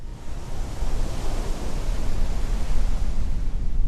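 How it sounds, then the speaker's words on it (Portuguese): Rough sea surging and breaking against rocky cliffs and headlands, a steady, loud, broadband roar of surf that swells slightly and continues without a break. "nada além de contrafortes, rochas, penhascos e, ao redor dele, o mar revolto"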